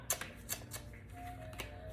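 Tarot cards are shuffled by hand in a quiet room, with several soft, quick riffles and taps at an uneven rhythm and a faint steady hum underneath.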